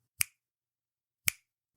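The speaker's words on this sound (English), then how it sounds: "Snaps sound like this." Two crisp finger snaps, about a second apart, each a sharp isolated click in near silence, close and clean.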